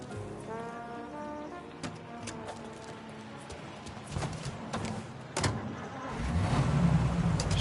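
A vintage car in the game Mafia: Definitive Edition idles and then pulls away, its engine hum building to a louder low rumble at the end, with a few sharp knocks along the way.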